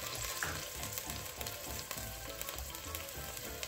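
Onion frying in butter and olive oil crackles with a steady, even sizzle, close and fairly quiet, with faint stirring beneath and no voices.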